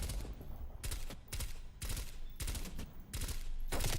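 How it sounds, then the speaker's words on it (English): Rapid bursts of automatic fire from a video game sentry gun, several loud volleys separated by short gaps, close and dominant throughout. "They got a sentry gun. It's just racking up the kills over there"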